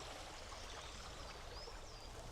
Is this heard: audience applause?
no